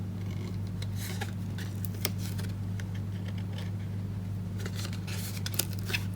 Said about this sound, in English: I want to stick a line of tear and tape all the way around.